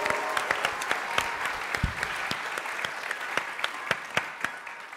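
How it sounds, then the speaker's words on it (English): Theater audience applause greets a Theater of Public Policy improv troupe, a steady wash of crowd clapping with sharp individual claps standing out near the front, lasting about five seconds. "please, a big round of applause for the Theater of Public Policy"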